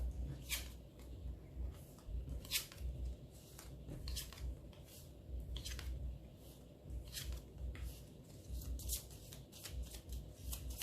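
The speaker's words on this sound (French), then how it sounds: "Je remélange un peu." Lenormand fortune-telling cards shuffled by hand in repeated crisp riffling bursts over a low steady background hum, close up and with no talking.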